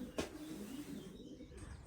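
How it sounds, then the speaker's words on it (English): Racing pigeons cooing softly in a loft, a low steady murmur of coos with one brief sharp noise near the start and no talking. "let me know your thoughts on a bespoke probiotic for your pigeons"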